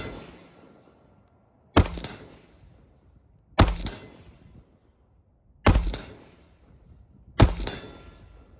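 Four single rifle shots from an M4 or AK47 fired at long range, each a sharp loud crack with a short decaying echo, spaced about two seconds apart with quiet between them.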